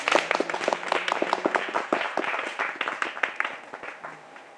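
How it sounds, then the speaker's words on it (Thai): Enthusiastic applause from a group of staff at an evening special event held at their shop, dense overlapping claps sustained for the whole stretch, fairly close and lively. "ปรบมือให้กับตัวเองหน่อยค่ะ"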